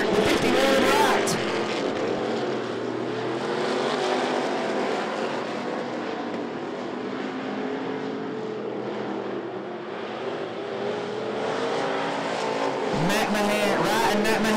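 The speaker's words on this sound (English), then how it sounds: "What a race between the 51 of Wright, the 13 of McMahon." Stock cars racing at I-75 Raceway, a loud steady engine roar from the passing field that swells and dips as cars go by, with commentary over it.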